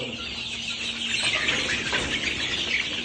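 Month-old chicks on a poultry farm keep up a dense, continuous chorus of overlapping high peeps and cheeps, loud and close, with no talking.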